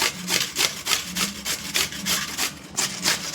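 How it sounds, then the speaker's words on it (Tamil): Ingredients for a three-ingredient sweet being grated by hand on a vegetable grater, a steady run of about a dozen rhythmic rasping strokes, close and fairly loud, with no talk. "காய் சீவரத்தில் வச்சு இப்போ நம்ம எல்லாத்தையும் சீவி எடுத்துக்கலாம்"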